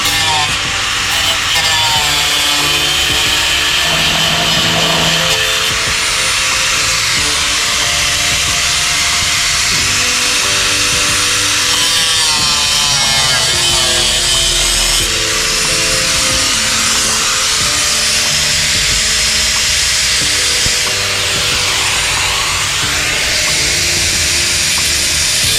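A loud, harsh power tool grinds and whines continuously, making relief cuts through car body metal, pitch wavering as it cuts, close up for the whole stretch with no voices.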